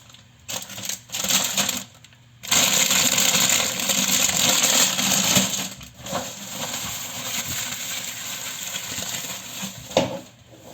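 A bag of Doritos chips crinkles and rustles up close, loud broadband crackling in bursts with a sustained stretch of handling noise, no talking.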